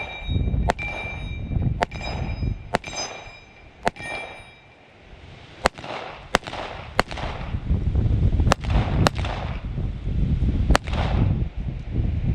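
H&K USP Tactical pistol fired at a shooting range with steel-cased ammunition: about a dozen sharp, loud single shots at uneven intervals, with a brief quiet pause near the middle over a steady outdoor background.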